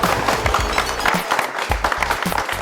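Audience applause breaks out at a celebration marking the 300th episode of the Malayalam TV serial Parvathy: a dense, steady wash of clapping that lasts the whole stretch with no talk over it.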